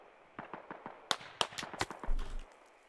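Gunshots in a military video game firefight: scattered, fairly distant cracks and pops at irregular intervals, a few sharper and louder than the rest, with a brief low rumble near the end.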